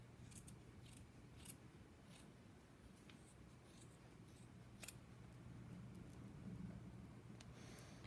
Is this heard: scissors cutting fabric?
yes